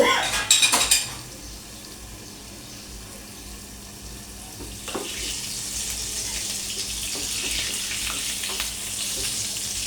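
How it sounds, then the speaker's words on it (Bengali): Chital fish kofta sizzles in hot oil in a home kitchen, a steady hissing fry that runs on after a few sharp clatters of utensils at the start, with no talking. "এদিকে আমার কোপ্তা ভাজাটাও হয়ে গেছে,"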